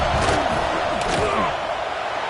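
A roaring stadium crowd in a college football video game swells during a field goal attempt, with dense, continuous cheering and a few sharp thumps.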